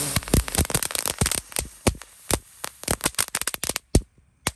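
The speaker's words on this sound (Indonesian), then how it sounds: "ini ada mercon teratai 4 sekaligus" Four lotus firecrackers lit together at night on New Year's produce a rapid, irregular burst of sharp crackling pops, dense at first and thinning out toward the end.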